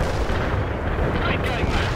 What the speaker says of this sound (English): Mobile mortar is launching!